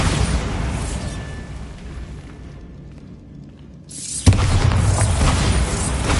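Bombarda spell explosion in a Harry Potter video game: a low rumbling roar fades to a lull, then a sudden loud boom bursts in and sustains as a heavy crumbling rumble.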